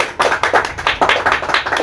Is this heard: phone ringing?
no